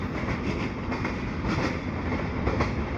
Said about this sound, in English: GP38-2s on the G95. It'd be a short train, I think.